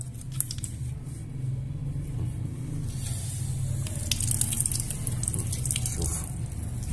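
Water spraying over an electrical appliance during washing, a steady hissing wash with low rumbling underneath and scattered clicks, continuous and fairly close throughout.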